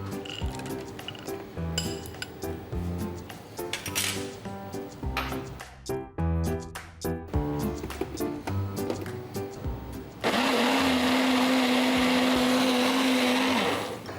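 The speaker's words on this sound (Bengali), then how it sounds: "এটা আমি একটু আবার একটু ব্লেন্ডারে দিয়ে দিব" Scattered clinks and utensil knocks lead into a loud, steady electric blender whir as butter chicken sauce is pureed with nuts, running for about three seconds before stopping.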